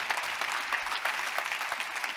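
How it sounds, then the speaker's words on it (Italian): An audience at the Salone del Mobile.Milano press conference applauds, producing steady, even crowd clapping from start to finish at moderate volume. "continuate a fare degli applausi al salone"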